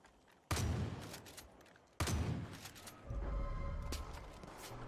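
Gunfire in the Far Cry 5 video game aimed at a giant target: two loud, abrupt bursts of shooting with rumbling tails, then a third sustained barrage of heavy fire.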